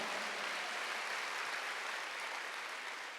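Steady, dense applause fills a church during a Wednesday worship service, continuous and fairly loud throughout with no pauses.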